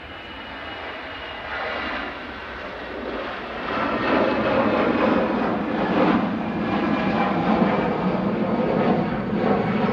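An EasyJet Airbus A320 at Manchester Airport roars steadily at a distance, a broad continuous engine rumble that swells slightly midway and holds, with no voices.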